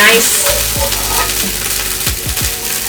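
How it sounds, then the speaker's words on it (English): Loud, steady sizzling of beef browning over high heat in a hot pan for Mongolian beef, with occasional scrapes and clinks of a utensil stirring. "nice sound of that beef just browning up"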